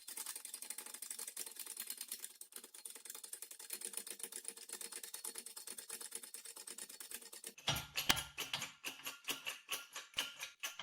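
A 100-ton hydraulic jack is worked during a strength test against a press, giving close, steady mechanical ratcheting clicks that turn into heavier, faster rhythmic pulses near the end, with no voices.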